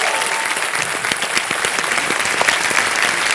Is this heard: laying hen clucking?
no